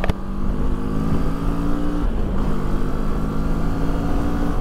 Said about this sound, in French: Allez, on accélère un peu.